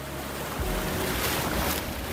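Atlantic Ocean surf surges loudly and steadily along an eroding Bayelsa shoreline at Sangana, a continuous broad wash of waves mixed with wind buffeting close to the microphone, with no voices.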